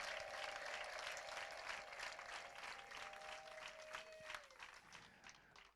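Congregation applauding a preacher welcomed at a church gathering, steady crowd clapping throughout at moderate distance, with a faint sustained tone beneath that fades by the end.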